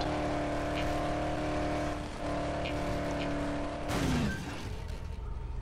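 Engine of a car in the zombie game Dead Island drives off-road with a steady droning hum, then a sudden rough burst of crunching, skidding noise near the end, no talk.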